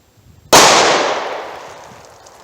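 A single 9mm pistol shot fired at level 3A body armor: one sudden loud crack with a long reverberant decay tailing off over two seconds, no talking.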